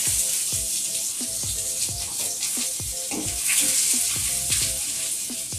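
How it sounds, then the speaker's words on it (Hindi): Onions sizzling and frying in a hot pan while Maggi is being made, a steady loud hiss broken by repeated scraping stirs, with no one talking. "प्याज भूनेंगे"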